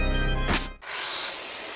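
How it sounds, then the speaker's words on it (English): A chainsaw revs up in the video game Disgaea 3, a brief harsh burst followed by a steady loud buzzing drone that holds to the end. "Princess? What's that chainsaw for?"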